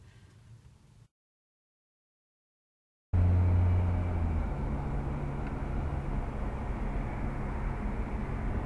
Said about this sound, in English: if you're wondering what the sound is like in this car, this is pretty much what it sounds like